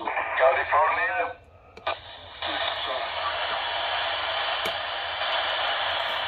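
Radio reception through a Malachite SDR receiver with noise reduction switched on: a brief burst of voice over the air, then a steady hiss of band noise with a few clicks, close and without live talk.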